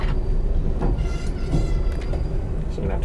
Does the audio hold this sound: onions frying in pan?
no